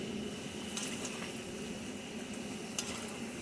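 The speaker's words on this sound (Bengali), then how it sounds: "এই আলু ভাজা চলছে" Soft, steady sizzling of potatoes frying in a pan, a faint continuous crackle with a few brief clinks, no voices.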